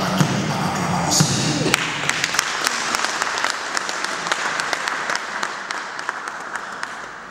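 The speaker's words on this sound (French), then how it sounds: "on l'accueille par l'acclamation." A crowd at a funeral breaks into sustained applause, loud and dense with sharp individual claps standing out, and a voice speaks briefly over the start before the clapping carries on alone.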